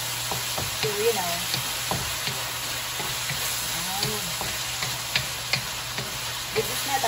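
Butternut squash and bok choy stir-frying in oil in a pan, with a steady close sizzle under scattered clacks of a stirring utensil. A faint voice is heard now and then.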